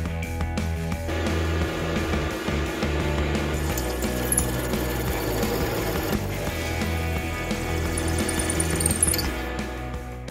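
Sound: reaming a drilled hole with an 8.99mm reamer

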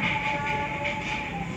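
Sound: Red Komodo train passing, western side of Padalarang station

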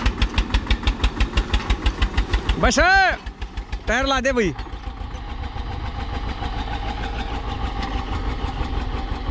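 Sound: Eicher 241 tractor engine idling

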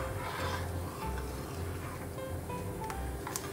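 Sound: stirring vegetables in a cooking pot

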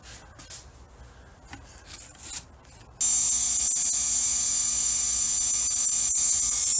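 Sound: battery powered Dremel cleaning battery cable connections

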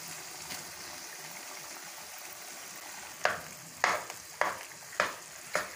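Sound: stirring boiled mashed potatoes into fried masala

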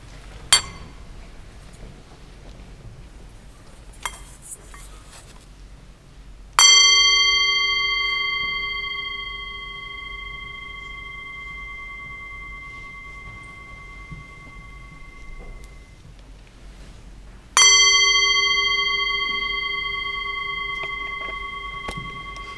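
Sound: chime being rung

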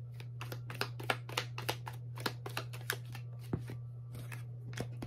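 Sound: tarot cards being shuffled

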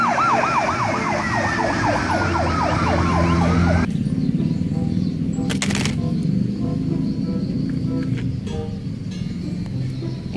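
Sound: toy fire truck siren

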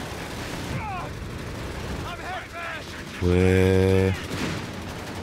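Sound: gunfire in video game Company of Heroes 3

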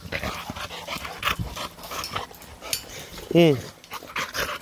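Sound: dog growling and panting while tugging a spring pole

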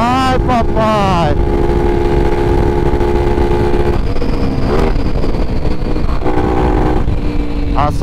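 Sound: Honda XRE 300 motorcycle riding at full throttle

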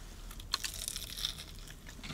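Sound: biting into crunchy freshly fried food

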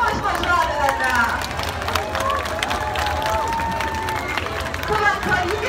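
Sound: audience clapping and cheering at sea lion show

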